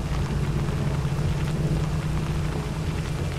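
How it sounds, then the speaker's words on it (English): Rain falls steadily in the video game Arma 3, a continuous hiss with a low rumbling undertone, even and unbroken throughout, with no talk. "Now it's raining."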